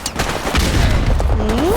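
Rapid gunfire from Call of Duty Modern Warfare Remastered rattles loud and continuous, dense bursts filling the short stretch with a rising tone near the end.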